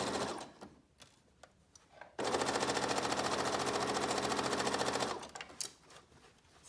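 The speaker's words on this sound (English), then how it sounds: "Oops, should not have sewn over that pin." A sewing machine stitches a beach bag, a fast steady mechanical chatter that runs loud and close for about three seconds, set between quieter handling noises and small clicks.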